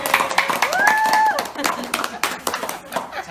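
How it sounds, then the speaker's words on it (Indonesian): A short burst of clapping from a few people, mixed with ongoing chatter and a brief sung or whistled tone in the middle. "Iya betul. Tepuk tangan dong."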